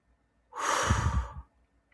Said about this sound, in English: Take a deep breath through your nose and breathe that out.